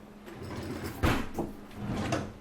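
A drawer slides and bumps shut with a soft thud, followed by a second quieter slide, over a low steady room hum.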